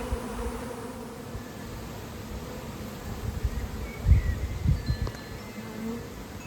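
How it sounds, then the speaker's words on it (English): A honeybee swarm buzzing around backyard hives: a dense, steady drone of many wings fills the whole stretch, with a few louder low thumps and rustles near the end. "there's a lot of bees here"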